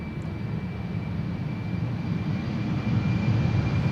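KLM Embraer 190 jet departing Schiphol on the Polderbaan runway, a broad steady engine roar that swells slightly louder toward the end, heard at a distance with no voices.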